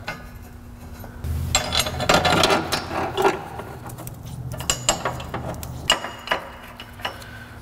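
A hand ratchet runs down bolts on a car K-member, giving bursts of rapid metallic clicking and clattering in uneven spurts against a low background hum, fairly close.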